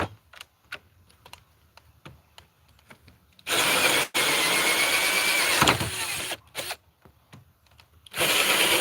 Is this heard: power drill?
yes